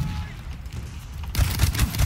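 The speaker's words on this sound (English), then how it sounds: "Machine gun." Machine gun fire in Battlefield 1 comes in as a loud, close, rapid string of shots after a quieter stretch of distant battle rumble, continuing to the end.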